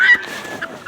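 Farm chickens give a few short, close, fairly loud squawking clucks outdoors, with brief calls at the start, middle and end of a quiet moment.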